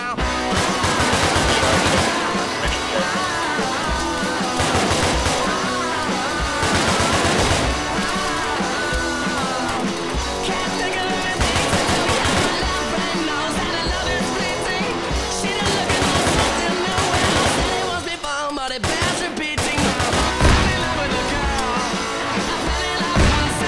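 Arma 3 battlefield combat: dense machine-gun bursts and rapid gunfire crack and rattle almost without pause, with heavy crashing impacts from shelling, loud and close, continuing throughout.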